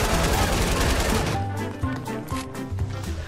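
Sustained automatic gunfire in Fortnite, loud and rapid at first, then thinning into scattered, irregular shots.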